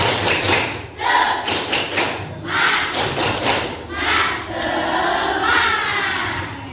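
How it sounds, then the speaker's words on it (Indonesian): A school class performs a rhythmic group clap with chanted shouts, bursts of loud clapping in set patterns alternating with voices calling out together, close and energetic in a classroom. "Tepuk semangat."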